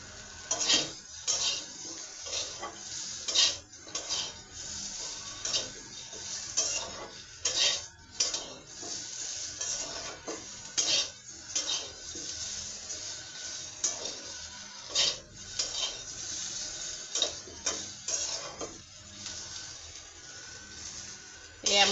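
Boiled jackfruit seeds fry briefly in a pan while a utensil stirs them, giving repeated metallic scrapes and clinks over a soft sizzle, with irregular bursts throughout.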